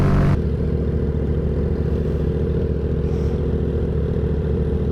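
Yamaha FZ-07 motorcycle engine at around 80 mph during a wheelie, a loud, steady droning roar that holds without a break from start to finish, with a brief louder burst at the very beginning.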